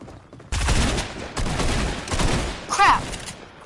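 Heavy shotgun and rapid gunfire blasts in a Fortnite match, loud and close, arriving in several clustered volleys with short gaps between them.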